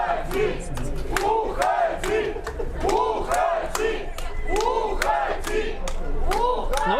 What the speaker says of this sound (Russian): Ну вы слышите требования болельщиков?